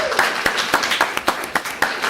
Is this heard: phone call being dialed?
no